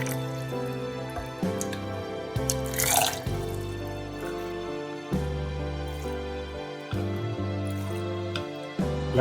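Water trickles and drips into a bottle of pickled Indian gooseberry with chilies, ginger and salt, a steady soft splashing flow with occasional louder gurgles, close and moderately quiet with no talking.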